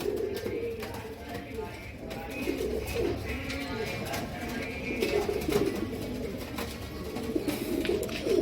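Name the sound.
Amritsari pigeons cooing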